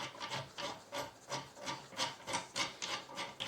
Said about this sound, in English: So I'm just going to kind of hand tighten these both sides